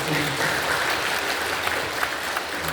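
A church congregation applauds during a worship service, a dense, even wash of clapping from many hands filling the room without pause.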